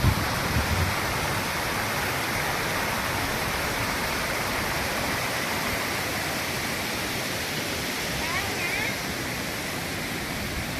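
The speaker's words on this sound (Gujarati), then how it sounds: "आ छे वॉटरफॉल જોઈ લો" The Hathni Mata waterfall roars continuously, a dense, steady rush of water falling into a deep pit that fills the whole clip without pause.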